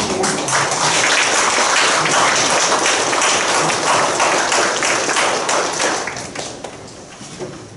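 An audience at a Korean academic tax conference's opening ceremony gives sustained applause, a dense steady clatter of many hands that holds for several seconds and then tapers off toward the end.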